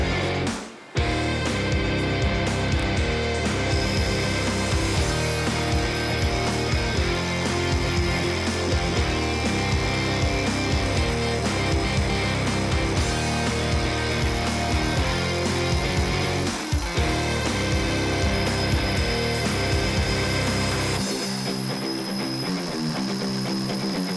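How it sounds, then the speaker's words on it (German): A Milwaukee power drill boring a 32 mm hole runs continuously with a loud, steady whine, along with a droning vacuum motor on a dust extraction hood, then the drilling stops while the suction hum carries on. "nehmen wir jetzt hier unsere Absaughaube und machen nochmal einen Test und saugen einfach mal"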